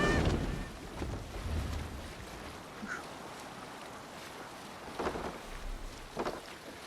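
A Viking sailboat glides across open water in Assassin's Creed Valhalla, with a steady wash of waves and wind rolling under the hull and a few louder surges of spray.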